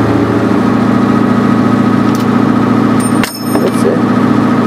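A diesel engine converted to run on waste vegetable oil drones steadily and loudly nearby, with a brief dip in the sound partway through and a short metallic chime over it.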